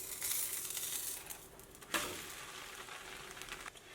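A thin egg pancake fries in a lightly oiled pan on low heat after flipping, with a constant crackling sizzle, soft stirring sounds and one sharp clatter near the middle.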